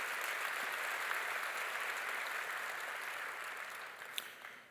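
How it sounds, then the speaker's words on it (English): Audience applause fills a university graduation ceremony for medicine and health sciences, a soft, distant sheet of clapping from a large crowd that slowly fades, with one sharper clap near the end. "I think that deserves a round of applause."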